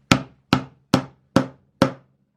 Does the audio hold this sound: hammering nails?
yes